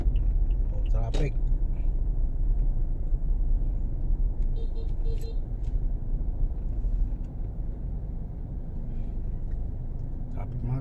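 Road traffic on C5 Road in Libis rumbles on steadily nearby with low vehicle engine drone, brief brake hiss and clatter along the way, and a voice talks over it.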